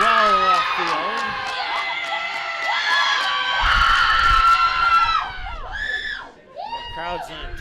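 A high school baseball crowd at Perham vs Dilworth-Glyndon-Felton shouts and cheers loudly after a hit, with high-pitched voices and whoops sustained for several seconds before fading into scattered calls.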